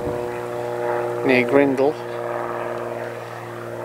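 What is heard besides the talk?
propeller plane flying overhead, parachute training aircraft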